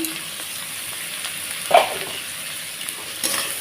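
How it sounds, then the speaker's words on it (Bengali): Onions fry in a pan with nigella seeds, giving a close, steady sizzle with one sharp stirring clatter midway and a brief swell of crackle near the end; nobody speaks. "তো পেঁয়াজটাকে একটু লাল করে ভেজে নেব দিয়ে দেবো হালকা পরিমাণ কালো জিরে"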